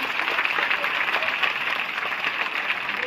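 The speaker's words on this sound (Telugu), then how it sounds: "అందరూ చప్పట్లు కొట్టండి ఒకసారి" An audience clapping hands at a rangoli colouring event, a steady even patter of applause at moderate distance, sustained with no pauses.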